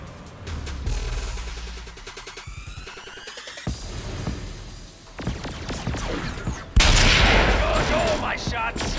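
Agents of Mayhem gunfire comes in rapid bursts and volleys of shots mixed with crashes and booms, loud and busy throughout, with a heavy blast near the end.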